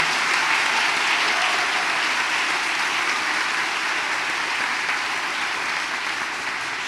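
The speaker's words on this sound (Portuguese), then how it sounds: "Vamos aplaudir o Senhor bem forte." A church congregation applauds during a Catholic service, a broad, sustained roar of clapping from many people, steady and loud for several seconds before easing slightly at the end.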